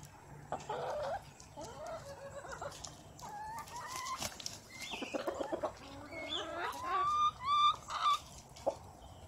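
Backyard chickens cluck and squawk near and far in uneven bursts, with some louder calls rising toward the end, while a person speaks now and then in between.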